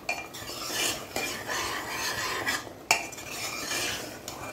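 A spoon stirring ridge gourd sabzi mixed with ghee in a pan, close scraping and clattering against the metal in uneven strokes, with a sharp knock near the middle and little sizzle.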